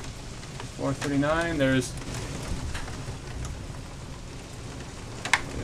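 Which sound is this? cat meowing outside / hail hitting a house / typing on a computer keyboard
hail hitting a house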